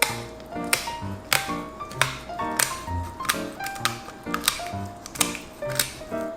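Kitchen scissors snip through the hard belly bones of a giant moray eel. Crisp, close cuts repeat roughly every half second over steady background music.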